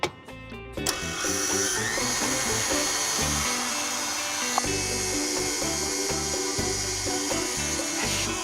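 An electric mixer with a whisk attachment beats egg whites with sugar, making a continuous loud motor whir with a rhythmic mechanical pulsing and a short burst of clatter at the start.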